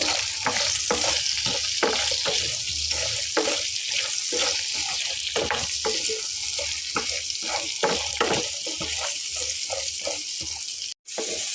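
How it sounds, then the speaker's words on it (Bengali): Sliced potatoes with salt and turmeric fry and sizzle steadily in hot oil, with repeated stirring scrapes over a loud, continuous crackle; no talking. "আর আলুটাকেও আমি একটু লাল লাল করে ভেজে নেব।"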